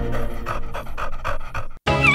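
A giant red dog pants in quick, heavy, rhythmic breaths close up, about seven puffs in a row before a brief cut to another sound.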